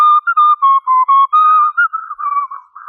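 A person whistles a short, lilting melody alone, a string of clear pure notes with brief gaps between phrases, close and steady in loudness.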